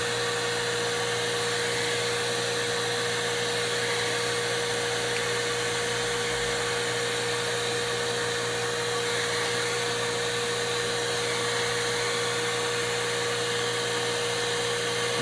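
A power tool with a drill bit finishing cuts in a die-cutting job, a steady loud whining drone with a constant pitch throughout, close and unbroken, with no voices.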